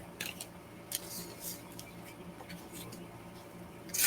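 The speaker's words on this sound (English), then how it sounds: "Me throwing the cards everywhere." Tarot cards riffled and tossed about, a run of quick papery flicks and slaps at uneven intervals, close and moderately loud, ending in a brighter burst of shuffling.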